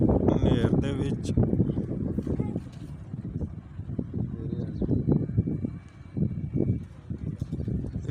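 Heavy storm wind rushes and buffets continuously around a pigeon flying area in cloudy weather, while people talk loudly over the blustery noise.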